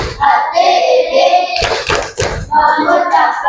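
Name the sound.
rhythmic thank-you clapping routine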